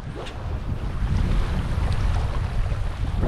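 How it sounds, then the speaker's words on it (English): Northeast wind blowing across a beach at Cape Hatteras in the Outer Banks while surf fishing: steady, loud rushing wind buffeting the microphone, with a broad roar of waves beneath it and no speech. "we have northeast, like northeast wind blowing right now"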